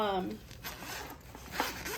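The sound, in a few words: bag zippers being opened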